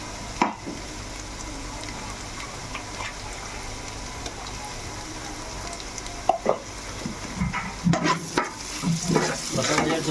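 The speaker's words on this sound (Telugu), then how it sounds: "ఈ మసాలా కూడా మనకు బాగా వేగాలి." Masala paste frying in a pan for fish curry, stirred with intermittent scrapes and clinks over a low steady sizzle, busier toward the end.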